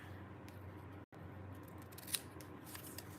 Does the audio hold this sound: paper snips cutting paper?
yes